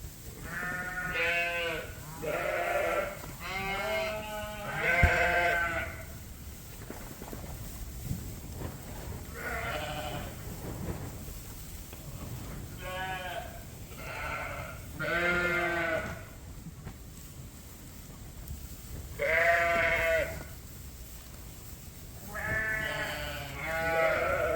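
Sheep bleat repeatedly in a straw-bedded farm pen on a cold winter day, several animals calling in overlapping bursts with short quiet gaps between them, moderately distant.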